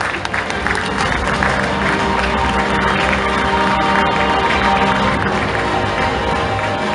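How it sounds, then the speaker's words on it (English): A crowd at a combat sports hall of fame awards event applauds and cheers steadily and loudly, a dense wash of clapping and voices that holds for several seconds. "Another round of applause for our fighters and Alvin."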